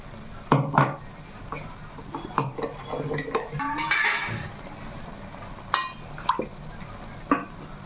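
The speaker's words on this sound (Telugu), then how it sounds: "కొంచెం పేస్ట్ వేసుకొని కలిపేసుకుందాం ఉల్లిపాయ టమాటా పేస్ట్ చక్కగా వేసేసుకోవాలి" A spoon scrapes and clinks in a pan as onion-tomato paste is stirred into a sizzling chicken masala gravy, with intermittent metallic knocks over a low fry.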